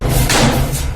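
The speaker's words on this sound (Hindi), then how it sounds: "बहुत तेज बंद करो दरवाजा" A rooftop door slams shut hard on a windy day, one loud, heavy thud close by that booms briefly and fades under wind noise.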